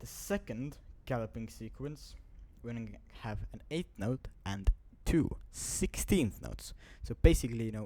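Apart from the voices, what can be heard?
No everyday noise stands out behind the speech.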